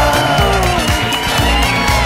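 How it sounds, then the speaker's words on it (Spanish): Loud theatre audience cheering and whooping for performer Montserrat Marañón, a dense steady roar of crowd voices with shouts throughout, music or tones sustained underneath. "Reciban con un fuertísimo y caluroso aplauso a Montserrat Marañón"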